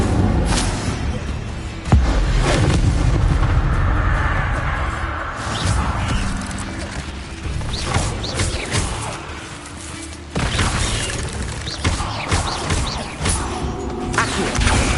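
Fire spell cast in Hogwarts Legacy, a loud burst followed by sustained roaring, crackling combat noise with repeated heavy impacts and thuds throughout.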